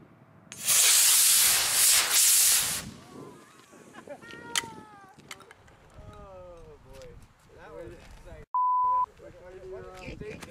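An Estes Saturn V 1:200 scale model rocket motor ignites with a loud, harsh hissing sizzle lasting about two seconds, followed by excited voices and a brief electronic beep.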